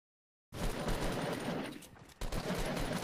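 Rapid gunfire in the video game Fortnite, starting abruptly after a short silence as a dense continuous burst, dipping briefly, then resuming with loud close shots.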